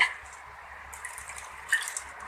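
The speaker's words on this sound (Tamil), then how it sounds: "நல்லா கொஞ்சம் நிறையவே தண்ணி ஊற்றி நல்லா ஊற வச்சிடலாம்" Water poured generously over washed ration rice in a kitchen to soak it for idli batter, a gentle splashing gush with a few louder spurts.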